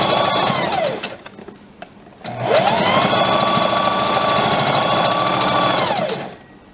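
A sewing machine runs stitching a casing on a velvet dress. A short burst of loud, close, fast needle whirring slows to a stop, then a longer steady run speeds up, holds and winds down.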